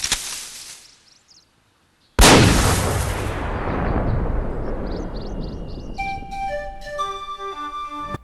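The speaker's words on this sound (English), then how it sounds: "Gunshots being blasted is never a good sign." A sudden loud gunshot blast in the video game Kingdom Hearts tears in after a brief silence, followed by a long rumbling echo and synthetic game-like tones chiming near the end.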